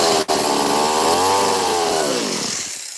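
A chainsaw runs loud and close in a continuous cutting snarl, its pitch rising and then sagging as it bogs into the material before the sound tails off, with no talking.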